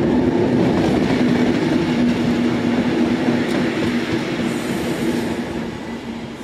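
A Belgian train running loud and close, a continuous rumbling rail roar with a steady tonal hum and wheel noise that eases slightly toward the end.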